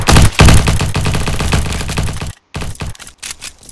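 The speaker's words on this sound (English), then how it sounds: "Oh no, it's a shotgun apparently." Shotgun fire in the online shooter game Bad Business comes as loud, rapid blasts in quick succession, followed by a short pause and a few more separated shots.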